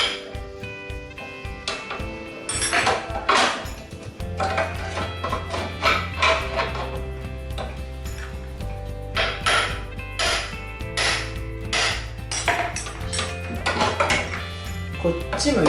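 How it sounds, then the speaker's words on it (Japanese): A hammer strikes a special tool being driven into a Super Cub front wheel during a repair for a wobbling front tire. The sharp metallic knocks come repeatedly and unevenly over a steady low background hum. "こいつをね、中に入れてハンマーで叩いちゃうんですね。"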